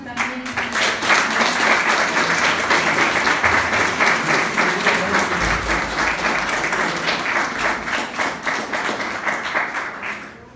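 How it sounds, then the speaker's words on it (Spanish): Sustained audience applause closing a conference marking a municipal anniversary in Cosautlán de Carvajal; a full crowd claps steadily for about ten seconds before tapering off at the end. "Un fuerte aplauso también."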